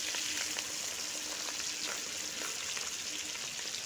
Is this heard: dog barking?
no